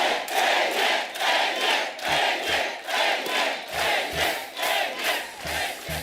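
Studio audience on a Hindi comedy talk show bursts into loud, sustained applause and cheering as a star actor is welcomed on stage, a dense wash of clapping with rhythmic swells throughout.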